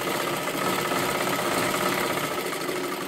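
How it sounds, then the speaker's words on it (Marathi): Steady, close sewing machine hum and rapid needle chatter while stitching a four-tuck blouse, continuous and fairly loud throughout. "इथून आपल्याला शिलाई द्यायला सुरुवात करायची"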